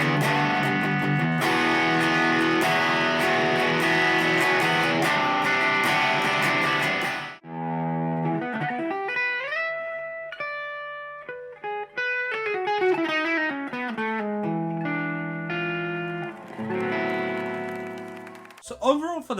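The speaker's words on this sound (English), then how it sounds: "Let's turn on some distortion and see how that sounds." A cheap electric guitar under $200, humbucker on the bridge pickup, heavily distorted, plays loud sustained chords, then bends and single-note lines with a bright, gritty tone.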